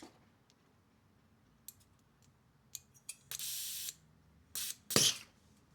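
Cleaner sprayed through a car fuel injector on an Audi A6 C7 3.0 TFSI: several short bursts of hissing spray, the last ones longer and louder, separated by quiet gaps with faint clicks.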